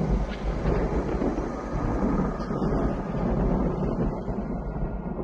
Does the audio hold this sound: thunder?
yes